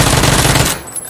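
Automatic gunfire in Battlegrounds, a loud close rapid burst of shots lasting under a second that cuts off abruptly, with no talk.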